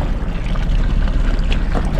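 Loud, steady motor drone of a fishing boat engine at sea, with wind buffeting the microphone throughout the short stretch.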